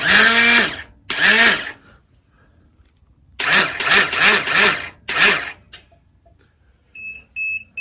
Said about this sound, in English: I'm gonna see if this starter is gonna turn over with this start button.